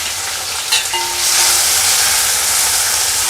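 A large tomato and two green chilies hit hot oil with spices, bay leaf and cinnamon, setting off a loud close sizzle that swells after a brief clink and then holds as a steady frying hiss.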